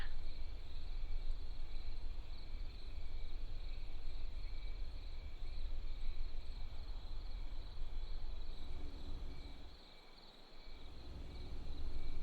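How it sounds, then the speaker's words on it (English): Crickets chirp in a video game as a steady, continuous insect trill over a low ambient bed, dipping briefly near the end before resuming, with no voices. "if it's cold, there's still cricket sounds in a game"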